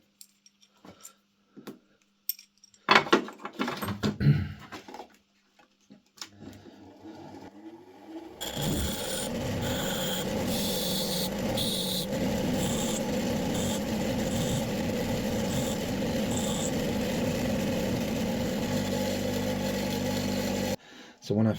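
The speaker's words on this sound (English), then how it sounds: "So I'm at the grinder now and I'm going to start shaping this part here." A bench grinder shaping a small steel part for a flintlock pistol repair: after some handling clatter, a steady loud grinding whine runs continuously for over ten seconds before cutting off.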